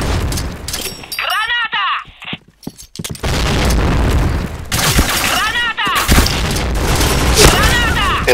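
Grenade blasts and gunfire in the video game Point Blank, with sharp bursts and booms repeating across the scene under shouted voices, loud and close throughout.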